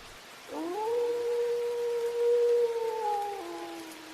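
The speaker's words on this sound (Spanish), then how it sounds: "escuchó un aullido desgarrador" A single long, wailing animal howl, loud and sustained, rising at the start and holding steady for about three seconds before breaking off, with no talking.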